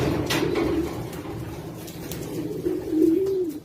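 Racing pigeons coo at a loft, a close, continuous throaty cooing with rising and falling phrases over soft background noise and no talk.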